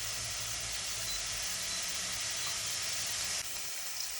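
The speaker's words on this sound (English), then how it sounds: "We've got 1 garlic clove that is also been chopped, and we're going to fry them until they're transparent." Chopped onions and a chopped garlic clove frying in a pan give a steady, close sizzle with hissing steam throughout, with no talking.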